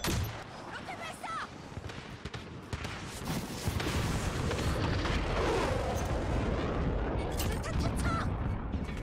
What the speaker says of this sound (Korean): 로켓 발사!